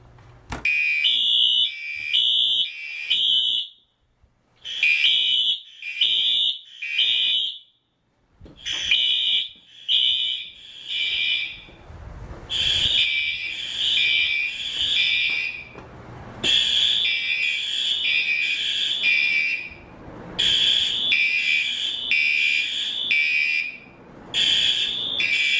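A loud, piercing fire alarm blares in repeated pulsing bursts with brief pauses, continuing steadily throughout with no talking.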